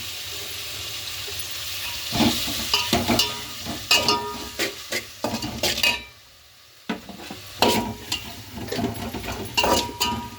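Tomatoes fry with onion, ginger-garlic paste, mustard seeds, turmeric and salt for a potato curry, sizzling steadily while a utensil stirs and scrapes the pan in repeated bursts, with a brief quiet gap midway.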